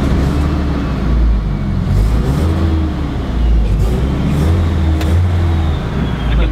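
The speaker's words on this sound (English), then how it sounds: "I can hear that turbo" A turbocharged Nissan S14 with a GTX turbo making 325 kW drones steadily from inside the cabin, a loud, continuous low engine rumble with rising and falling revs and faint turbo whistle.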